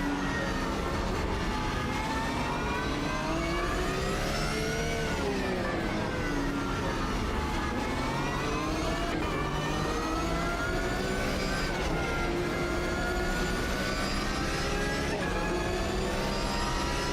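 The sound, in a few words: safety car engine in Automobilista 2 video game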